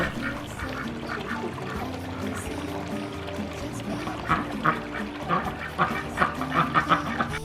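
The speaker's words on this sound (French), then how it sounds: "on arrive sur une petite cour où il y a des canards" Ducks quack in a courtyard, a series of nasal calls that grow busier toward the end over a murmur of background noise and running water.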